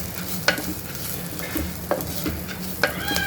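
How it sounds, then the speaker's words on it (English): A spoon stirs turmeric and coriander powder as they dry-roast in a pot, giving three or four distinct scraping strokes over a soft, steady sizzle, with no voices. "I'll give it a little stir just to lightly roast the spices."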